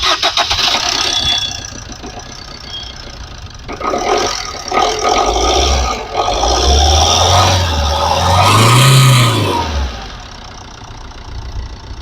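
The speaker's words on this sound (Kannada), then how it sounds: "ಇದು ಇವಾಗ ಇಂಜಿನ್ ಸ್ಟಾರ್ಟ್ ಮಾಡಿದ್ನು ಕೂಡ ತೋರಿಸ್ತೀನಿ" A 2011 Maruti Swift VDI diesel car in very good condition cranks and fires up, then settles into a steady, smooth idle with clattering diesel knock, heard up close, with no talk.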